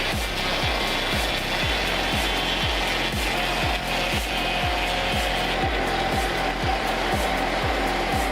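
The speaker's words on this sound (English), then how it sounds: "Those dual blades make cutting logs into boards much faster." A dual-blade sawmill powered by a single engine rips logs into boards, giving a loud, steady mechanical whine with rapid rhythmic pulsing from the blades, continuous and close throughout with no talk.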